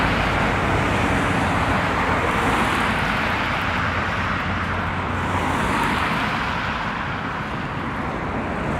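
Road traffic in Regina's Lakeview neighbourhood, a continuous broadband roar of passing cars heard while walking, steady and moderately loud with gentle swells as vehicles pass, no talk.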